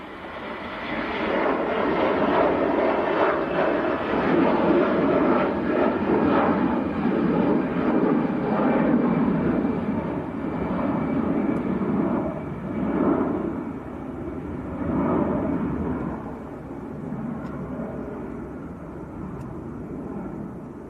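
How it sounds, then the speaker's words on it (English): A Jet2 Airbus A321, not a Neo, takes off from Manchester Airport bound for Faro, its engines a broad, loud, sustained roar that holds steady and then slowly eases, with no voices over it. "Jet 2 to Faro, on the roll. Yeah, Airbus A321,"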